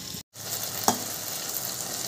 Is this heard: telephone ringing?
no